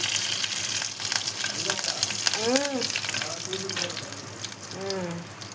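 Tempering spices and curry leaves sizzle in hot oil, a close crackling fry under a few faint voice-like tones and kitchen noise.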